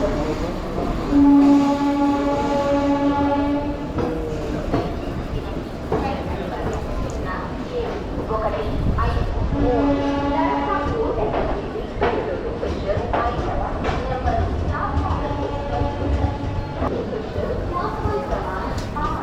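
A passenger train arrives at a station platform, rumbling along with a sustained horn blast early and another midway, heavy rolling noise throughout, with people talking nearby.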